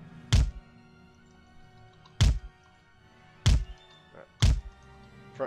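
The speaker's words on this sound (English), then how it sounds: "Front cannon just took out one of my guns." Cannon fire during a naval battle in the strategy game Empire: Total War, heard as four heavy booming thuds spaced a second or two apart, with softer follow-up thumps after some shots and no voices.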